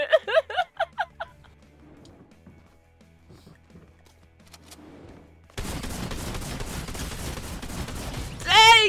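A drum shotgun fired in a video game, a quick rhythmic burst of rapid blasts up front, then a quieter stretch before a dense wall of loud game noise takes over.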